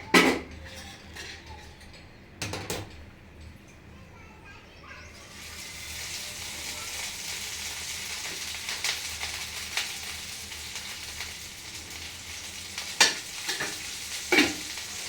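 Oil heating in a pan for ridge gourd curry: a few clanks of pans and utensils at first, then a steady close sizzle with occasional sharp metallic knocks.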